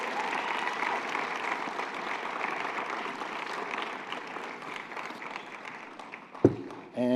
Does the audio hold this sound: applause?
yes